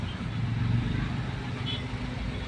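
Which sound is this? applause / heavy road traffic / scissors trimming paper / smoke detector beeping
heavy road traffic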